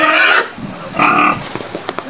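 A pig on a farm gives two loud nasal squeals close by, followed by a few shorter grunts and snorts, with no talking.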